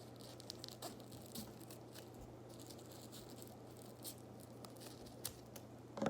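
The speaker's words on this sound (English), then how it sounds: "they're going to cut through all this tissue paper at one time" Scissors snip through a thick stack of tissue paper while a paper flower is cut out, a faint, close series of crisp cuts and rustles scattered across a quiet room.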